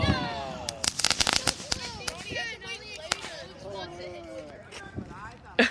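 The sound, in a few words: firecracker thrown and exploding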